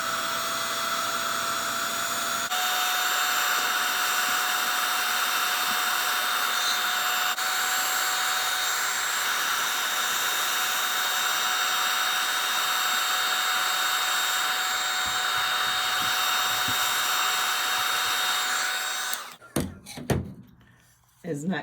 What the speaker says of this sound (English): we're going to take the heat gun, and we're just going to apply the heat to this